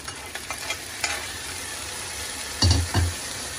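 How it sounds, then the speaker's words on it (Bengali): Polao rice frying and being stirred in a pot for chicken kofta biryani, a soft steady sizzle with scraping spoon strokes and two louder clunks of the utensil near the end. "এখন আমি পোলাওটা ভাজা ভাজা করবো।"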